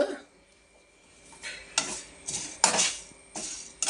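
Fenugreek seeds are stirred in a hot pan with a spoon while tamarind rice is being made, giving about five distinct scraping, rattling strokes that are close and clear, with no talking.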